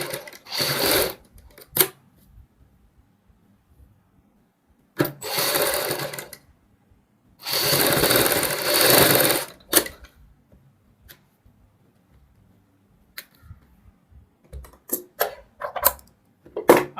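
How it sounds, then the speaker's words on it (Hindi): A sewing machine stitches a patch for a blouse back neck, running in three separate bursts of steady rapid mechanical whirring of about a second to two seconds each, with quiet pauses and light handling clicks between them. "दोनों साइड बराबर गैप छोड़ते हुए हम ये सिलाई लगाएंगे।"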